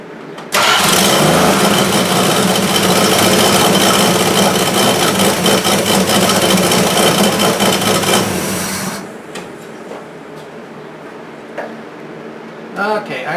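A 1973 Plymouth Duster's 225 Slant 6 engine cranks, catches and runs loudly and steadily close by for about eight seconds, then shuts off, leaving faint clicks and ticks.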